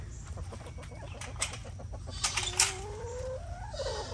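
A flock of chickens clucks and chatters nearby, with a few sharper squawks rising over the steady farmyard murmur.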